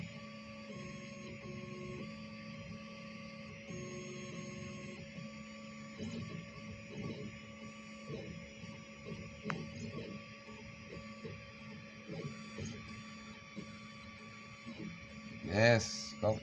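SCULPFUN S9 diode laser engraver cutting out a shield shape at 34% speed and full power, a faint steady mechanical hum with the stepper motors whining softly as the head moves, plus a few small clicks and a short bump near the end.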